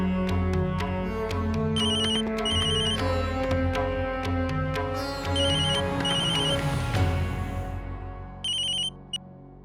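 A phone rings repeatedly with an electronic ringtone melody, loud and close, under swelling background music.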